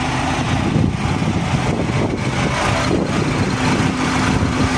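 A car engine runs steadily nearby, a continuous mid-pitched hum and rumble with no voices.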